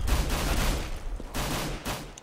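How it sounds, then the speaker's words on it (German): Rapid bursts of gunfire from Counter-Strike on the de_inferno map during a professional match: dense, loud volleys that fill the whole stretch, with short dips between them and no talk. "Von Pfifflan knallt er erstmal schön zwei Headshots die Mitte runter"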